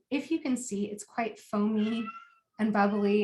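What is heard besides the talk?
cat meowing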